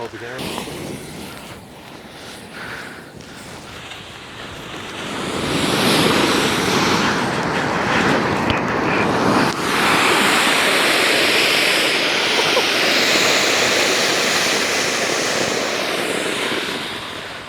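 Twenty rocket thrusters firing on a toboggan, building from a rough hiss into a loud, sustained roaring rush that lasts over ten seconds, with people talking beneath it.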